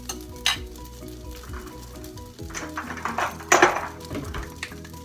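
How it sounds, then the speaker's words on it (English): Bread cubes sizzle and crackle in a hot frying pan, with a steady frying hiss and occasional stirring scrapes, close and moderately loud. "I'll just add it to the frying pan. And we're gonna toast these few cubes"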